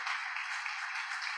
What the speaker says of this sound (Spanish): A ver, le damos un aplauso a Jesús entonces.